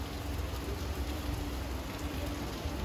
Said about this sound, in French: il pleut, averse.